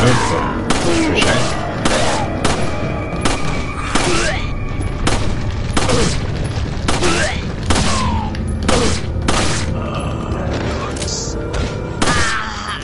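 Rapid gunfire from the video game Resident Evil 4, loud repeated shots and booming blasts in quick succession with game sounds and a voice mixed in.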